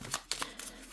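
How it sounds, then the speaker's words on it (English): Tarot cards riffle and slap softly as they are shuffled close by, a few quick papery bursts, quiet and brief. "I want to shuffle a little bit more, if you don't mind."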